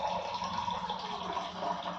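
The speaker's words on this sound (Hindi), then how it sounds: "डाल दिया इसके अंदर 1 गिलास पानी" A glass of water poured into a dough mixture for rabdi in a home kitchen, a steady, close, continuous splashing pour lasting the whole moment with no talk over it.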